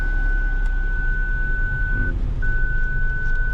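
Reversing parking sensor on a 2021 Proton X50 1.5 TGDI Flagship: a steady, continuous high tone that drops out briefly and then resumes, heard over a constant low engine hum.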